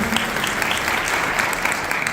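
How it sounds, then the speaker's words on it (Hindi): A crowd at an annual ashram festival in Haridwar breaks into loud, dense applause to welcome a minister, steady and close throughout the short burst, with no speech over it. "एक बार जोरदार तालियों से माननीय मंत्री"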